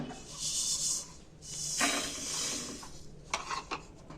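Fried lentils slide and hiss from a hot pan into a container, with scraping clatter of a spoon against metal and a few sharp taps near the end.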